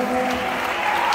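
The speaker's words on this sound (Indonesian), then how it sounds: "Oke, kita tepuk tangan." Church gathering crowd applauding, a steady wash of clapping with a sustained tone running beneath it throughout the short stretch.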